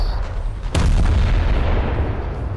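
Naval 6-inch guns firing in a World of Warships-style video game, one loud deep boom with a long rumbling roll-off after a short build of low noise, close and heavy, with no voice over it.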